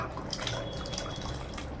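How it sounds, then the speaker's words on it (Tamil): Horse gram broth pours into a pot as a continuous, fairly faint liquid splashing and trickling for a couple of seconds, with no voices. "இப்போ இந்த கொள்ளு அதில் ஊற்றிடுவேன்"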